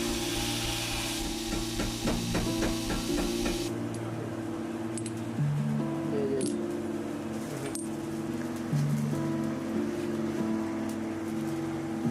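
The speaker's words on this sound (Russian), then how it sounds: "Вначале куется молотком, начиная с одного края, чтобы выжать оставшиеся шлаки" Rapid, evenly spaced hammer blows on hot bloomery iron for a few seconds, then steadier scattered strikes under a continuous low mechanical drone.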